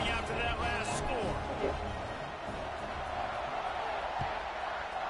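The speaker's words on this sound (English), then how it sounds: "this crowd is buzzing after that last score" Steady crowd roar fills a college football video game stadium after a scoring drive, a dense, continuous buzz that holds at a constant level without distinct cheers.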